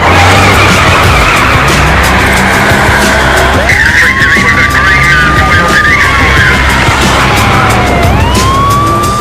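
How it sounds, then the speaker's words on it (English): Tires of a Ford Fairlane skid and squeal loudly during a high-speed police chase, with engine roar, a siren rising and falling, and voices underneath. "He took off and that kicked off a police chase, a high-speed chase."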